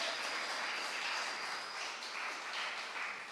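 Church congregation applauding during a Spanish-language sermon, a dense steady wash of clapping lasting the whole stretch with no speech over it.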